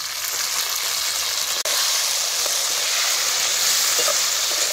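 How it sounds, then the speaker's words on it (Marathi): Tomatoes and onion sizzle steadily in hot oil over a wood-fired chulha, a close, continuous frying hiss with a brief dropout partway through. "टमाटे बी तेलात चांगली भाजून घ्यायची"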